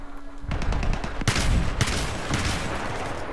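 Saiga 12K shotgun loaded with frag rounds firing in Battlefield 3 team deathmatch: a dense run of loud, sharp blasts that crowd together and layer over one another in a continuous roar of gunfire.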